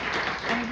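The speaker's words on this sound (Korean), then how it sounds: "박수로 환영해 주시기 바랍니다" A church congregation gives welcoming applause during a Sunday service, a brief burst of clapping heard at moderate level with a voice speaking over it.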